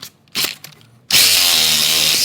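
A power tool with a cutting blade grinds into the catalytic converter of a 2015 Suzuki GSX-R 750 motorcycle, a few short bursts giving way to a loud, sustained, high-pitched whine close by.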